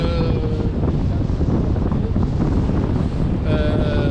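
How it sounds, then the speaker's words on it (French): Strong wind roars steadily and loudly across the microphone on a beach while surfcasting, a constant buffeting rush with no pauses. "Il y a beaucoup de vent."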